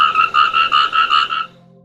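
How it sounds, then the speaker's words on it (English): A frog croaks in a quick rhythmic series of about eight pulses, loud and close, then stops abruptly. "Frogs they had never heard croaked beside the ponds."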